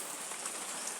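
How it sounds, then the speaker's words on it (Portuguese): Rain falls steadily on a surface, an even hiss of close patter with no one speaking. "Aqui está chovendo."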